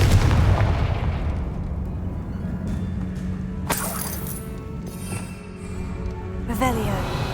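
Confringo blasting curse going off in Hogwarts Legacy, a heavy booming blast at the start followed by a rumbling low tail, with a sharp crack near the middle and another burst near the end over constant game ambience.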